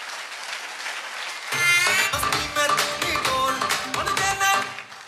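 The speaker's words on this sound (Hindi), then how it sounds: "जोरदार ताली होनी चाहिए सर के लिए।" An audience breaks into loud, dense clapping after a moment of quiet, and the applause carries on steadily to the end at a close, full level.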